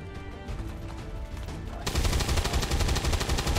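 XCOM 2 gunfire: after a quieter, tonal stretch, a dense, loud burst of rapid shots breaks in and keeps rattling steadily to the end.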